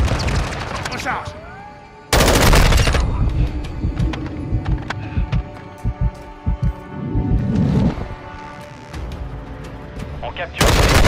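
M4 rifle fire in the video game Modern Warfare, loud bursts of rapid shots breaking out in clusters amid battlefield clatter, with other gunfire and voices heard around them.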